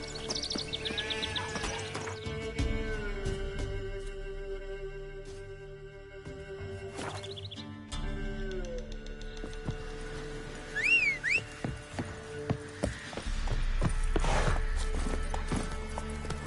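Roach the horse gallops in The Witcher 3, hooves clip-clopping in uneven bursts with a whinny, under game music and scattered effects.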